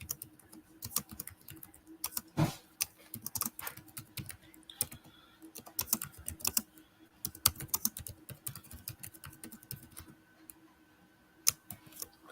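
Someone types on a computer keyboard indoors, a close stream of uneven key clicks with brief pauses, one louder tap standing out early, and no voices.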